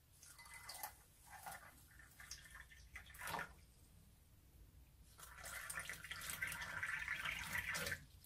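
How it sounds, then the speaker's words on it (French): Water being poured into a bowl of potato flakes: a quiet, close trickle and splash that comes in short bursts, pauses, then runs steadily for a few seconds, with no talk. "Je vais simplement rajouter de l'eau."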